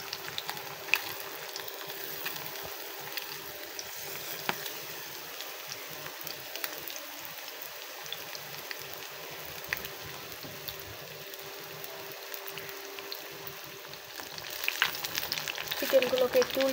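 Chicken pieces fry in a pan with a steady, close sizzle that swells toward the end, with faint household sounds in the background.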